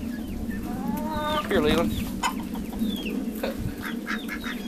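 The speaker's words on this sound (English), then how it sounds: "there's a baby chicken perching up on my tripod on the inner legs of it" Chickens cluck and chatter in a barn where ducks and geese are also being fed, with overlapping calls from several birds close by, over steady background noise, and a person briefly speaks.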